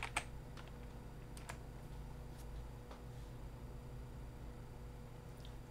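A few light, scattered keystrokes tap on a computer keyboard as a PIN is entered, faint and close against a low background hum.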